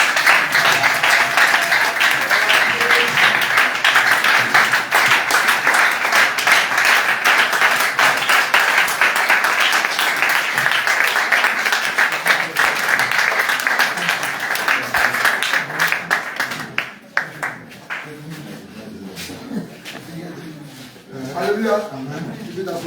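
A church congregation applauds in a sustained, dense wash of clapping that fades after about sixteen seconds, giving way to a voice speaking over scattered claps.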